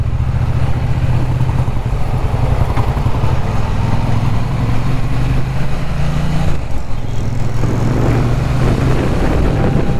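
A Triumph Bonneville T120 with a 1200cc engine hums steadily and loudly while being ridden, with a constant low drone and a brief pitch shift near the middle, along with wind rush.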